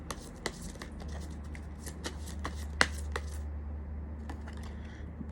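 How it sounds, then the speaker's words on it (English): Rebel deck tarot cards are shuffled and handled in a steady run of crisp flicks and riffles over a low steady hum, with a sharper snap midway and quieter handling toward the end. "I'm gonna pull some Rebel deck cards"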